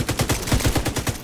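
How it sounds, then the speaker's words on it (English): Turret fire in The Division 2, a close, loud stream of rapid automatic shots at an even rhythm of about ten rounds per second, with nothing else heard. "Oh, that's a turret."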